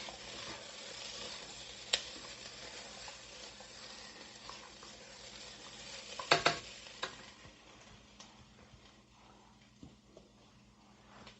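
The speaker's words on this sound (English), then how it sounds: "So we're going to add over our garlic. Allow that to cook." Garlic cooks in a pan with a faint, steady sizzle, broken by a few sharp clicks and scrapes of stirring.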